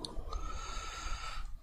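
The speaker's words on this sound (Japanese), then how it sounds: "いびきだよ" A man snores indoors with a rough, breathy snort followed by a long, raspy inhale. The sound is soft and close.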